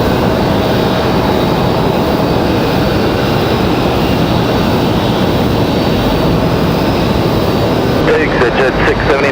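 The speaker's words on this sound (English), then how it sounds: "this is 737-700, by the way" A Southwest Boeing 737-700 jet taking off at Raleigh-Durham airport, a loud, steady roar of jet engines that fills the whole span, with a faint voice coming in near the end.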